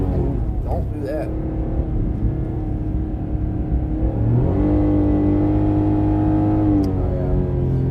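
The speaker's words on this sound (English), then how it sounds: "I want to see how the car is gonna react if I give it some gas" A 2022 Mitsubishi Mirage on Hankook Ventus V2s tires at half throttle in snow, its engine note holding a steady drone and then rising and strengthening partway through, with speech over it.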